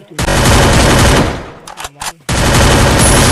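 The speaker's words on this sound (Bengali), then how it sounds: "ভিতর পিস্তলে কত গুলি আছে? চালাও, চালা গুলি।" Pistol gunshots ring out as loud, dense bursts of rapid fire, breaking off briefly in the middle with a few scattered shots before another sustained volley resumes.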